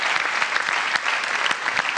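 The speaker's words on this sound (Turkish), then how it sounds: "Alkışlar!" A television game show studio audience applauds, with dense, even clapping from a crowd that stays loud and steady for two seconds.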